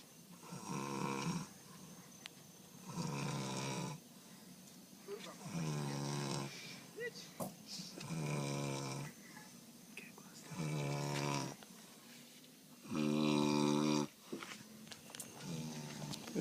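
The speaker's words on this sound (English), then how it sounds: "You are snoring your ass off." A man snores loudly in his sleep, about six long, rattling breaths in a steady rhythm. Each drawn-out snore is followed by a quiet pause, and the sound is close and prominent.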